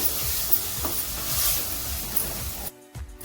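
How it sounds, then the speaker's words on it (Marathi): Ground masala paste for a village-style chicken curry sizzles steadily in a hot pan while being stirred and sautéed, a close, continuous hiss with scraping, cutting out near the end. "हे वाटण टाकलेलं छान परतवून घेऊया"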